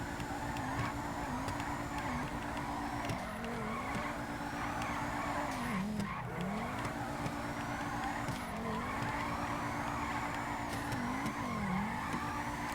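A Schyster Fusilade drift car in a GTA video game slides continuously, its engine revving and dipping in repeated cycles while the tires squeal steadily throughout, loud and close.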